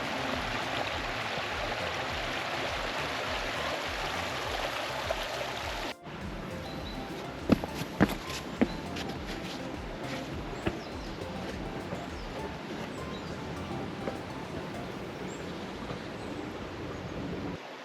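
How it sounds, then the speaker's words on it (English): Steady broadband rush of running stream water at the Chee Dale stepping stones in the Peak District, continuous and close, with a brief dip partway and a few faint clicks or bird chirps over it. "Nothing beats just that sound of running water."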